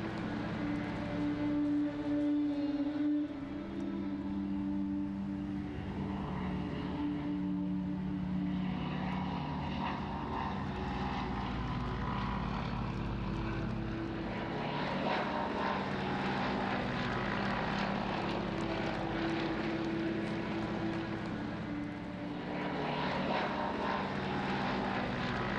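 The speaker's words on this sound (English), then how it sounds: "Swordfish, or Stringbag as it was known, flown by the Royal Navy Historic Flight." A Royal Navy Historic Flight Fairey Swordfish biplane flies a gentle air display, its propeller engine giving a steady, moderately distant drone that swells and fades slightly with no talk over it.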